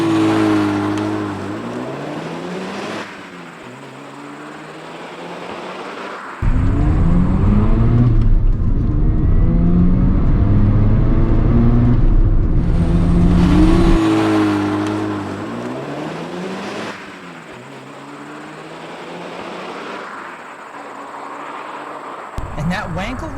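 Mazda RX-7 FD with a twin-turbo Wankel rotary engine launches and revs hard, rising in pitch through the gears in repeated surges with shifts in between, loud and close, with a person talking over parts of it.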